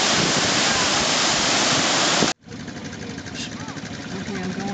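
Heavy waterfall at high water in the New Hampshire woods roars as a dense, steady rush up close, cuts out abruptly midway, then resumes as a softer rushing flow with other faint sounds over it.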